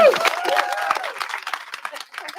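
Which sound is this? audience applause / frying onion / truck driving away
audience applause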